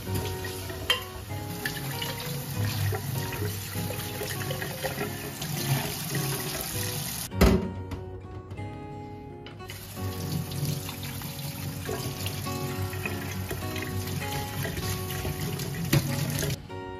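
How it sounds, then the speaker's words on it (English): Tap water runs and splashes while a teapot is rinsed clean, a close steady spatter that briefly stops and then resumes. "with a simple water wash."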